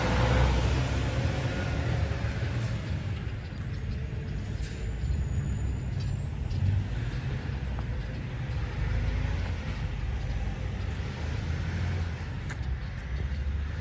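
A truck with air brakes near a construction site, heard as a steady low engine rumble and road noise throughout, with a few brief hissing releases from the brakes standing out faintly above it.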